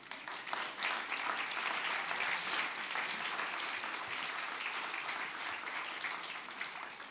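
Sustained applause from an audience at a live talk event in Fulda greeting actor Gunter Heun, dense steady clapping that carries on evenly for several seconds, moderately distant in a large room.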